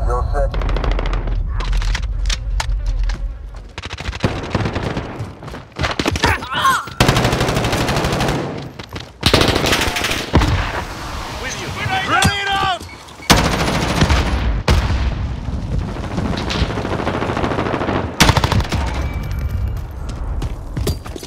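Automatic gunfire in Modern Warfare multiplayer Kill Confirmed, loud repeated machine-gun bursts and single shots with booms and mechanical clatter, nearly continuous, with game voice callouts heard between the shooting.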